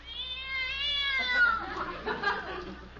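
Cat meowing in a family radio comedy sound effect, a long drawn-out wavering meow followed by rougher, scratchier yowls, fairly close and alone with no talk over it.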